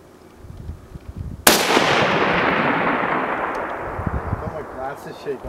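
A single loud CZ 550 rifle shot cracks out at close range outdoors, followed by a long rolling echo that fades over several seconds, with faint voices around it.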